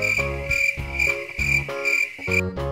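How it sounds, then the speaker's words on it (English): A cricket chirps in rhythmic, loud, close pulses repeating about twice a second, with a bright ringing tone and no voices. "Cricket."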